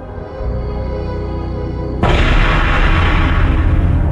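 A single sharp gunshot cracks in abruptly against a steady low rumble, and then a loud, dense roar of noise continues for several seconds, like a dramatized shooting effect in a Spanish true-crime audio drama.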